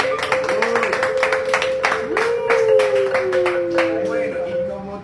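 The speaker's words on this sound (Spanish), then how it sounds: "Un aplauso para el" An audience at a Colombian folk music show in Cali gives a round of applause, scattered claps that are close and distinct, with a voice talking under and over them.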